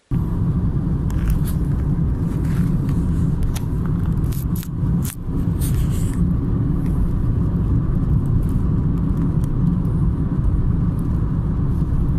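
A car travels along the road, its engine and tyre rumble holding steady and loud from inside the cabin throughout, with a brief dip midway and a few faint knocks and rattles.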